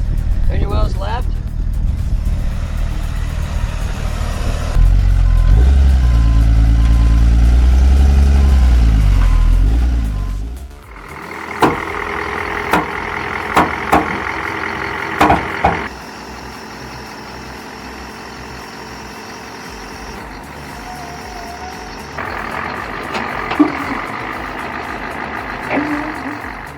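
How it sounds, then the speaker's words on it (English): A Scania truck handling a heavy container of wet firewood idles and works loudly, with a heavy engine rumble that drops off midway. Sharp mechanical clanks and knocks follow over a quieter running hum. "a Scania truck is carrying out the task of loading and unloading a heavy container full of wet firewood"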